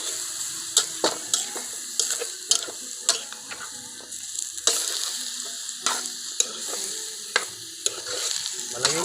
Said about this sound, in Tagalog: Yan, pinatuyo na adobong chicken.